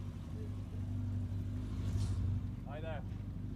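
A Ford Escort rally car on a forest stage roars steadily past with a loud low engine drone that builds in the middle, while a voice comments briefly near the end.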